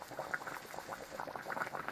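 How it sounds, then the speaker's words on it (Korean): Thick pumpkin jam bubbles in a pot during winter on Ulleungdo island, soft close popping and gurgling at a steady low level. "호박잼 끓는 소리."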